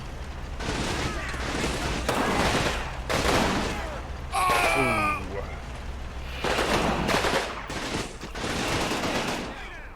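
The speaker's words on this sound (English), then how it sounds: "There's some kind of heavy machine gun there." Heavy machine gun fire in the Combat Mission World War II game bursts in repeated loud volleys, with sharp rattling reports and a whizzing, falling effect in the middle, dense and continuous over ten seconds.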